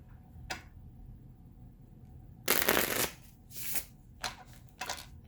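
Tarot cards are shuffled close up in short riffling bursts, one long flurry in the middle and several brief ones after, over a quiet room.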